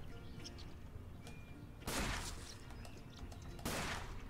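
Two sudden, loud gunshot bursts ring out while squirrels are hunted in the Duck Dynasty video game, separated by a quiet gap with faint outdoor chirps in the background.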